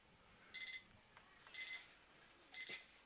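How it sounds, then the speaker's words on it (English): A beeping alarm goes off at a lawn bowls championship match, sounding in three short bursts spaced about a second apart, faint and thin against quiet outdoor background noise. "There goes Robbie's alarm, folks. We're out of time"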